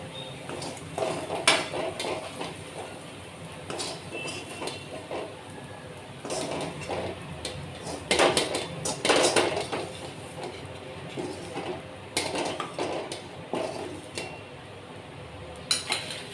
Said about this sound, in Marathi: प्लेटमध्ये काढून घेऊया